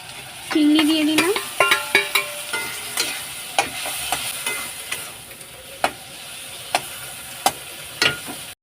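Prawns fry in a pan with turmeric, chilli powder, cumin-coriander powder and jaggery over a low-to-medium flame, under a steady sizzle broken by repeated sharp spatula clacks against the pan, busy early and then spaced out.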